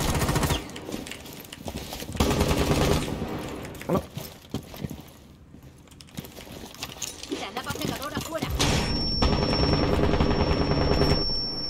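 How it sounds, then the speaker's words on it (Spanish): Machine gun fire in the Rainbow Six Siege video game, several rapid bursts of loud close shots with pauses between them, mixed with other game sounds. "esta ametralladora es impresionante"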